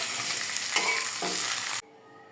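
Fish and pumpkin stir-fried with onion and chilli in a pan, a loud continuous sizzle with a couple of scraping stirs, close up, then cutting off abruptly to near silence near the end.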